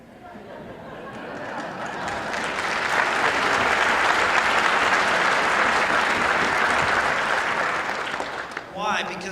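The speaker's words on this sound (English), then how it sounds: "I'm glad we hear that applause." A townhall audience in Tioga, North Dakota breaks into applause that swells to a loud, sustained roar, then fades as a voice resumes speaking.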